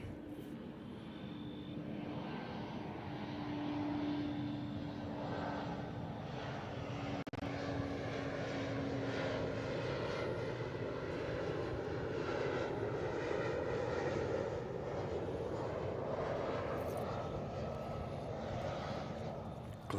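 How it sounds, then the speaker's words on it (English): An airplane passes overhead in Darwin, Australia, as a broad, steady engine drone that swells slowly and then holds at a distance. Quiet outdoor background is heard beneath it, with a brief low tone early on. "Oh, there's a plane."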